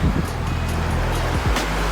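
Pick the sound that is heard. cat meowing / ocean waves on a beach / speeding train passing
ocean waves on a beach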